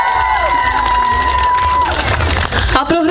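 Audience at a children's dance studio concert applauding as a dance ensemble leader is called to the stage, loud continuous clapping and cheering with sustained music tones fading under it and a brief shuffle near the end.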